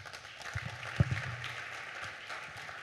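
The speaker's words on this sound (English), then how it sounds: "Please, another round of applause for the gentleman." Faint, distant audience applause at a conference fills the hall with a soft, even patter of many hands, with one or two slightly sharper claps near the start and no clear talk over it.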